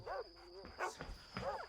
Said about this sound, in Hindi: इन कुत्तों को क्या हुआ?